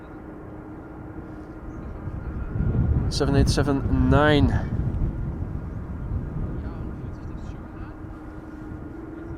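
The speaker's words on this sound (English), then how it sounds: "Our next airplane to depart Air Europa outbound to Madrid." An Air Europa airliner, three years old with its first flight in January 2021, departs Schiphol Airport for Madrid, its jet roar swelling then easing over several seconds under steady wind noise, with a voice speaking briefly.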